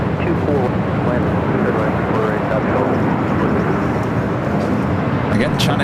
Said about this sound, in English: Again, China Airlines A350-900. Next takeoff here on the north side.